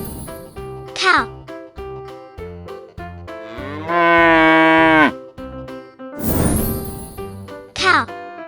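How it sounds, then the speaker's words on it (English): A cow lows in one drawn-out, strong moo midway, over bouncy music with brief squeaky cries and a rushing noise nearby. "Cow."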